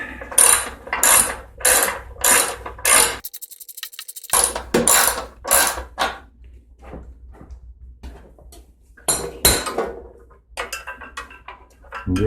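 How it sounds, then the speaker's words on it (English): A 1/2 inch ratchet driver turning on a vintage Sears Briggs & Stratton engine: loud, close rapid ratcheting bursts in quick repeated strokes, a short pause, then more bursts, with scattered clicks and clunks between. "A 1/2 inch driver."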